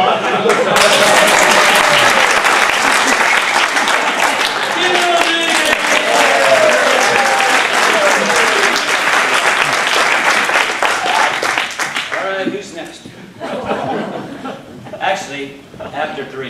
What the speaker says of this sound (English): Hurry up and applause.